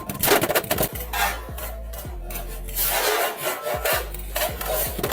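A Dran Buster spinning top on a 560 high taper battling another top in a plastic arena, with sharp repeated clacks of collisions over a continuous whirring, scraping rattle, loud and close, no talk.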